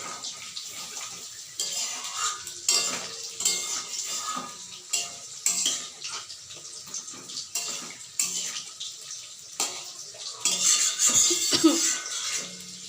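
Water poured and splashing into pointed gourd curry in a pan, mixed with repeated metal clinks and scrapes of a utensil against the pan, close and fairly loud, with no one speaking.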